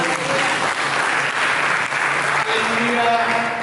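Church congregation claps in sustained applause during a worship service, a loud dense patter lasting a few seconds, with a voice talking over it.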